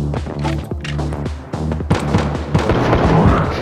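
Rapid gunshots crack and boom in the mobile shooter Johnny Trigger, loud and dense over a constant music and effects bed, with a voice talking over the action.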